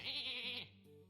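A single short sheep bleat from the card game MTG Arena, clear and close, lasting under a second and followed by a faint trailing tone.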